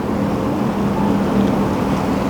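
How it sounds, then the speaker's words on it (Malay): Sudden rain pours down as a steady, even hiss that holds at the same loudness throughout, with no voices over it. "Tiba-tiba hujan, nak."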